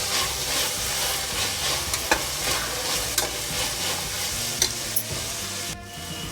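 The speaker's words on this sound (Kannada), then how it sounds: "ಇದನ್ನು ಚೆನ್ನಾಗಿ ಹಸಿ ವಾಸನೆ ಹೋಗೋ ತನಕನೂ ಫ್ರೈ ಮಾಡ್ಕೊಳ್ಳೋಣ." Tomato bath masala, a Karnataka rice dish, sizzles steadily in a pan while a spoon stirs it, with occasional scraping knocks over the constant close frying hiss, and no talk.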